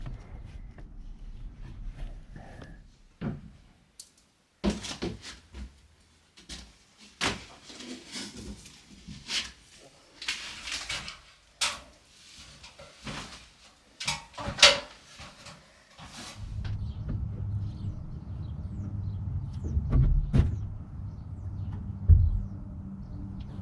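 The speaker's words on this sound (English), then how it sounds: "That noise you heard was me basically trying to push the cable further" Cable being pushed up into an attic space from outside, heard as a series of irregular scraping knocks, bumps and rustles, fairly faint and distant, followed by a steadier low rumbling scrape toward the end.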